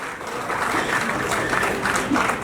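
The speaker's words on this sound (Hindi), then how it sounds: "मॉम है वो सब अपने लिए जरा जोरदार तालियां बजा" Mothers in the audience at an awards ceremony clap loudly and steadily, a sustained wash of crowd applause filling the room.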